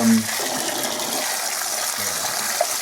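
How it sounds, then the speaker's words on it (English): Water gushing from a slightly sticky kitchen tap, a steady broadband rush running the full length, with a brief low tone and a faint voice at the start. "Tap gets a bit stuck sometimes, so as the water's gushing out"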